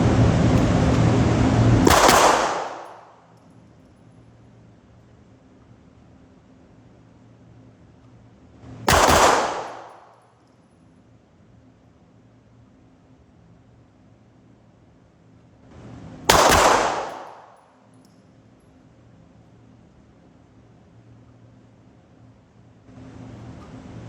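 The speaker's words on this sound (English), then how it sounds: "Now we're going to do some follow-up shots, 2 at a time, to make sure that I'm accurate within 2." Three widely spaced bursts of pistol fire during USPSA shooting training, each a loud, closely paired volley fired two at a time, with a low background hum between them.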